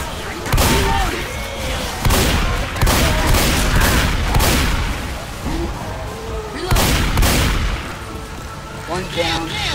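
Repeated bursts of gunfire in Left 4 Dead 2, several sharp volleys across the stretch with brief gaps between them, loud and close, while players shout to one another over the shooting.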